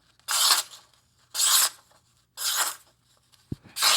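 Knife blade slicing through material, four separate swishing, rasping cuts each lasting about half a second, spaced roughly a second apart, close and fairly loud, with a short knock between the last two.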